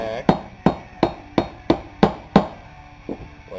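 A bolt is struck with a hammer to drive out a piston from a rusty engine block: seven sharp metallic blows land at a steady rhythm, close and loud, then a pause before two softer taps.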